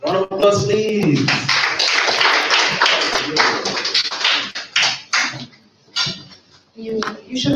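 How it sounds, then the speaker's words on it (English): An audience at a public speaking academy event breaks into applause, dense clapping that runs for several seconds and then thins into scattered claps, with a voice heard near the end. "Round of applause, please."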